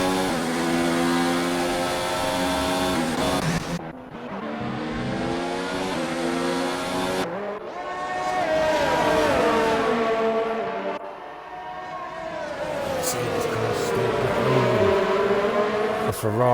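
Ferrari race cars in a racing video game, their engines whining loud and high as they rev through gear changes, with one pitch sweep cutting off sharply into the next. Other cars' engine notes overlap near the end.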